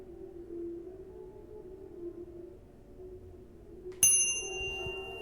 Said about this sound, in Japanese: 呼び鈴を鳴らそうか。 それしかなさそうだね。呼び鈴を鳴らす。